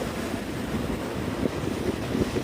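Coastal wind rushes steadily and loudly across the microphone in a continuous low buffeting roar, with no voices.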